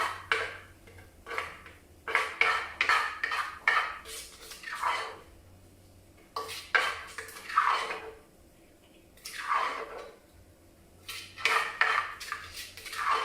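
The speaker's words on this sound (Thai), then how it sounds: "เอาข้าวใส่ลงไปในครกนะแล้วคลุกนะ" Rice being mixed and pounded into jaew pla ra dip in a mortar, with repeated clinking and scraping strokes in short bursts separated by pauses, close and moderately loud, with no talking.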